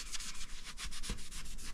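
A rag rubbing cut and polish cream onto a Rays TE37 alloy wheel makes quick back-and-forth scrubbing strokes, close and steady and rhythmic, with no talk.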